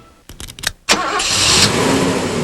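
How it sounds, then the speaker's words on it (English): A car engine is cranked with a few quick starter bursts, then catches and roars to life, settling into a loud, steady idle close by. "Costly engine wear occurs when you first start your car"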